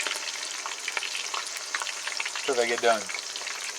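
Bar food deep frying in hot oil, a steady broadband sizzle and bubbling throughout, with a person speaking briefly over it near the end.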